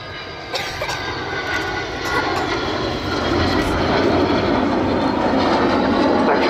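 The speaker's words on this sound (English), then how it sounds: "Final fly past coming in from the right, speeding up to 300 knots, 345 miles an hour." An Avro Vulcan bomber jet flies past at an airshow, its engines making a loud, steady roar that swells gradually and holds strong and broad throughout, with no talk.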